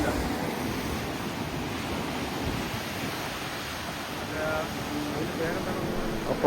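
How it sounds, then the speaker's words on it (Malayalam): Sea waves surging onto rocks near a lighthouse at Vizhinjam, a continuous heavy wash and rumble of surf with wind noise, and people talking faintly now and then. "ആ പാറയുടെ മേളിലേക്ക് വെള്ളം അടിച്ച് കയറുന്നുണ്ട്"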